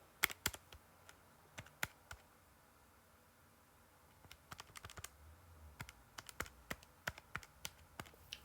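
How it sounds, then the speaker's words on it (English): Quiet tapping on calculator keys during a chemistry calculation, a scattered run of light clicks with a pause midway before the taps resume; no talking. "Typing that in your calculator"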